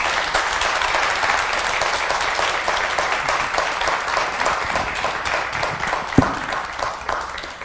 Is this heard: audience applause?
yes